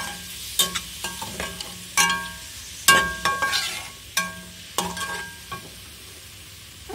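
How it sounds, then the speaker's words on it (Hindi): Chopped carrots frying in oil in a kadai over medium heat, with sharp bursts of crackle and spatula scrapes in uneven clusters over a softer background sizzle, close up, with no speech. "अब हमारे पास ये जो ऑयल है कढ़ाई में, इसी में हम गाजर डालेंगे"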